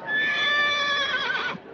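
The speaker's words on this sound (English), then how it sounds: "Listen, he's giving you the horse laugh now." A horse neighs loudly and close in a 1948 Western set in Wyoming, one long clear whinny with a wavering pitch that rises and trembles before breaking off abruptly.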